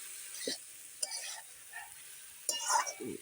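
Beans, potato, eggplant and cauliflower fry in a pan and are stirred, with a quiet sizzle broken by a few separate scrapes and clinks of the spoon against the pan.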